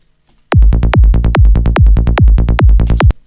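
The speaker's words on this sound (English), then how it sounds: "The bass is actually basically in phase with the kick" A psytrance kick and sidechained bass in phase, pounding in a fast, steady four-on-the-floor rhythm of about a dozen punchy, loud thumps, each tail ducking into the next, stopping abruptly after about three seconds.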